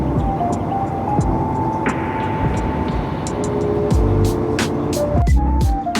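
Steady, loud cabin drone aboard a British Airways flight in the Club World business cabin on a two-hour route, a continuous engine and airflow roar with faint clinks and rustles on top, and no talking.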